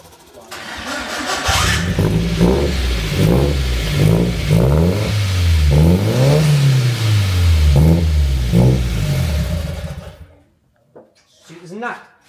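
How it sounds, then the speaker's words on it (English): A Nissan S13 engine with a new exhaust fitted, cranking and then running at a steady, loud idle for about nine seconds with a rhythmic low rumble, then cutting off; brief voices follow. "I'm gonna hook the battery up and turn it on and see what this exhaust actually sounds like"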